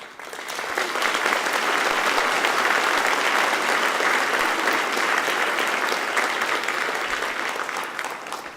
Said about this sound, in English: I see Mr. Sam Gui applauding.